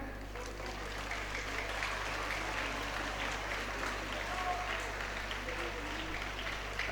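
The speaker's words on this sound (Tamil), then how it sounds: "மீண்டும் ஒரு முறை கைத்தட்டுங்கள்." Steady applause from a crowd at a school student awards event, sustained clapping filling the whole stretch with a constant low hum beneath it.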